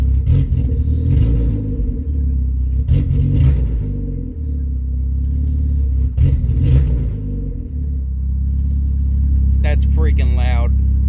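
A Chrysler PT Cruiser engine idles with an open header exhaust and a missing downpipe bolt, giving a loud, steady low rumble that swells a few times like light revs, with a voice briefly heard near the end.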